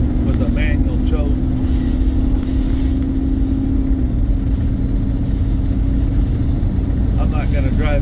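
A 40-year-old 1982 Itasca Sundancer 21-foot motorhome with a manual choke drives along, its engine a steady close drone with a sustained hum, while a voice talks intermittently over it.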